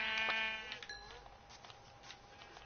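A single Minecraft sheep bleats once, a short wavering baa heard nearby, followed by quiet game background.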